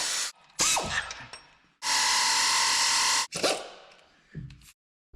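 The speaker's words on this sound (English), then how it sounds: "So we had to get out the old air tools." A twenty-year-old Craftsman air ratchet that runs loud: bursts of sharp mechanical whirring, one sustained high-pitched run of about a second and a half between shorter clattering spurts and pauses, close by.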